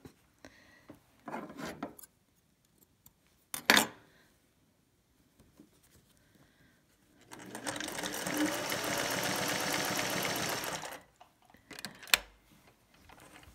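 Sewing machine stitching a shirt collar stand, a steady close mechanical run of about three and a half seconds, framed by quiet handling clicks and rustles before and after.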